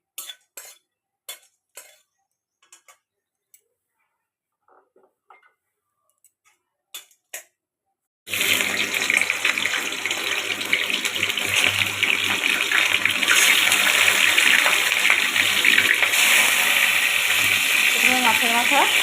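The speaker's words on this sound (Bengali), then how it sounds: "বাঁধাকপির জলটা এভাবে ঝরিয়ে নিতে হবে। ঝুড়িতে ঢেলে দিয়েছি।" Boiled cabbage water is tipped into a basket colander. A few light clicks give way to a loud, steady gush of draining water that lasts to the end.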